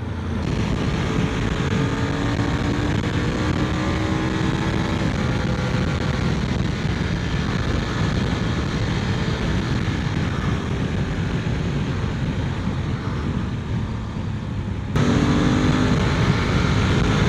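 A QJ motorcycle engine under way, a continuous loud drone with wind rush blending in, the pitch sweeping up and down through gear changes and ending in a sharp jump in loudness, with no talking.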